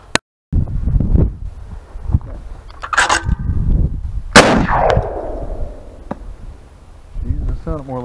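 Several gunshots from a new gun ring out as sharp, loud cracks at close range, with a trailing whine after one shot. Rustling and handling noise fill the gaps between shots.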